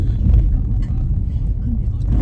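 A car rolls down into an underground basement parking garage at a D-Mart store, its low engine rumble steady and close throughout, with people talking over it.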